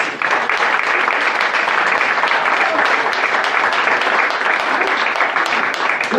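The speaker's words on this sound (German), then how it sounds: "Applaus." Loud, dense audience applause at a Cologne Kölsch music performance, a continuous wash of many hands clapping at close range, steady in level for the whole stretch.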